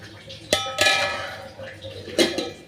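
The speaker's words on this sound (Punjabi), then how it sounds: "ਆਪਾਂ ਪੈਨ ਢੱਕ ਦਾਂਗੇ" A lid goes onto a metal pan of salted rice cooked with turmeric, giving a few sharp metallic clanks: one quick knock, a louder clatter a moment later, then another clank near the end, with quiet kitchen background between.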